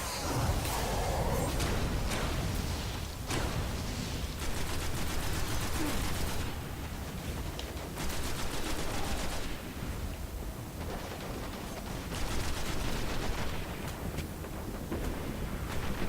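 Sustained, dense gunfire and explosions in the video game Destiny on PS4, loud and continuous with bursts of automatic fire and heavy blasts throughout, with no speech over it.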